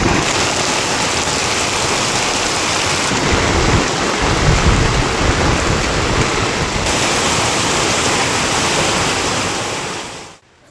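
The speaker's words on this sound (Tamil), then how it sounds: "மாலையில் கருமேகம் சூழ்ந்து கனமழை பெய்தது" Heavy evening downpour with thunder rumbling over a roaring wash of rain in Singampunari, loud and steady throughout before cutting off abruptly at the end; no voices.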